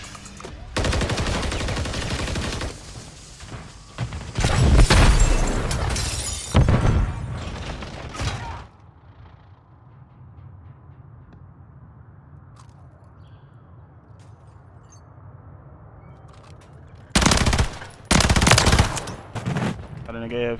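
A BP50 assault rifle firing in Call of Duty MW3, sustained loud automatic bursts, then a quiet stretch with faint talk, then another close burst of shots.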